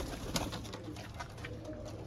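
Rooftop pigeons cooing, soft low coos repeating close by over a quiet murmur of background noise, with no talking.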